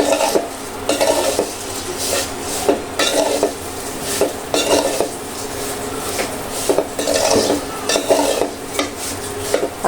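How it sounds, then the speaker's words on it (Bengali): Rhythmic scraping of a utensil stirring food in a pan, frying over low heat with ghee, with a soft sizzle under repeated strokes; close and fairly loud, no talking. "এটা আমি একটু ভালো করে ভেজে নিচ্ছি।"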